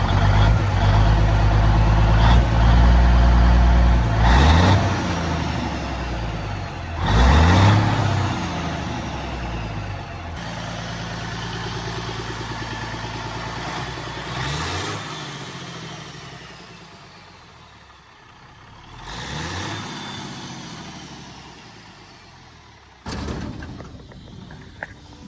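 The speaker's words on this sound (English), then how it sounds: "Go back there and film the stack so they can hear all the engine sounds." A 1984 Peterbilt 359 truck engine, recorded close to the exhaust stack, rumbles loudly with a deep idle and swells into several strong revs that fade back down.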